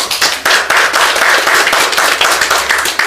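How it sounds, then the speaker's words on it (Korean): Loud, close applause from a crowd at a civic network's general assembly meeting, with strong individual claps standing out in a quick irregular rhythm over a dense clapping wash. "박수 한번 주십니다."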